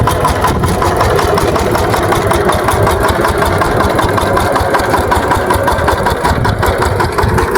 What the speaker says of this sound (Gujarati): પાવર ટીલરથી આપણે ફળિયું આંકવાનું ચાલુ છે.